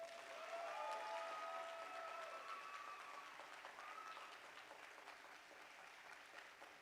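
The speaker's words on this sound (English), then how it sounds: "She needs one more round of applause." Faint, steady applause from the audience after a Bharatanatyam arangetram dance recital, with thin ringing tones above the clapping early on, easing slightly toward the end.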